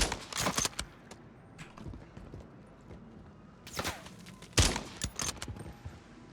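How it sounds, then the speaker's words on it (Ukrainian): Gunfire from the video game Warzone 3 crackles in bursts of sharp shots, with a few louder cracks standing out over a busy, mid-level game mix of footsteps and movement. "О, він вже там стріляє."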